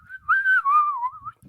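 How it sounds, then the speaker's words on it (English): A person whistles a short, wavering melodic phrase, a clear close-up tone gliding gently down and back up for about a second, with faint breathy noise before and after. "It's just whistling."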